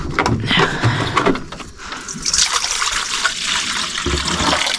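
Water pours and splashes into a dog's bowl in a home kitchen, a steady trickling stream that runs for several seconds at close range with a few knocks and clatters.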